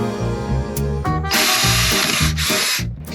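A power drill drives a screw into a trimmed drywall anchor in a tight, close whirring burst that bogs and surges in pitch, stops briefly, then revs again loudly before cutting off.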